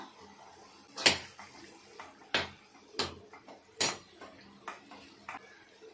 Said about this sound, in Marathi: सात आठ मिनटं झालेत एकदा ना भाजी हलवून घेऊया